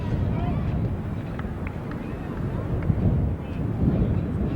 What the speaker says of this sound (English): Wind still strong this afternoon in East Lake